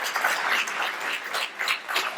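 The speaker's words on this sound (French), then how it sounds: "J'aimerais que vous lui signifiez encore par vos applaudissements" Applause from a gala audience at an evening for a Sefer Torah, a dense, even wash of many hands clapping at once, moderately loud and continuous.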